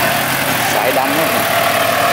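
Bulldozer engine pushing soil at a landfill site, a steady mid-pitched diesel drone running throughout at close range, with someone talking over it.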